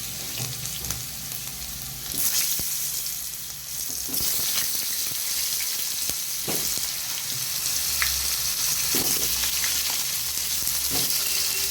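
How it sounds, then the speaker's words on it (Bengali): Potatoes go into hot oil for a chicken biryani and fry with a steady, bright sizzle that swells after they drop in, with occasional stirring clinks over the continuous crackle. "তেল গরম হয়ে গেছে, তো আমি আলুগুলো দিয়ে দেবো"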